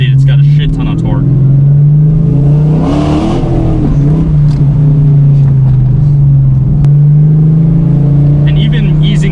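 A supercharged classic Dodge Challenger R/T making over 500 wheel horsepower, eased onto the throttle on twisty roads; a loud, steady engine drone rumbles throughout, rising slightly as it pulls.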